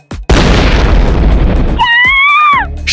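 A hand grenade explodes in an animated cartoon with one loud, sudden boom after a brief pop, followed by a rumbling roar and a rising whistle-like tone near the end.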